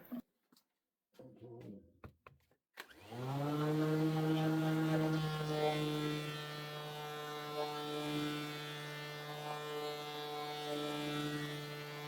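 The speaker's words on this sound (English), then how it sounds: "I'm going to sand it with some 600 with my machine here." After a few light taps, a power sander with 600-grit paper starts on the finish of a rosewood Telecaster guitar body and runs as a steady, buzzing, close motor drone with slight shifts in pitch.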